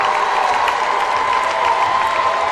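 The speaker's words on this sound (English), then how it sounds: "That gets the crowd in a frenzy." Basketball crowd cheering and applauding after a steal in a boys high school championship game, a steady, fairly loud roar of voices throughout.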